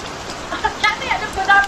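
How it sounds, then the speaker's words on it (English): Soft patter of rain sounds, like fingers tapping, with faint voices mixed in over a short stretch. "Oh my goodness, you hear that rain?"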